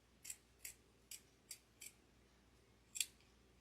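Scissors snip through wreath material for a crescent Santa wreath, giving six short, crisp cuts at a fairly even pace with a louder final snip, close and quiet, with no talking.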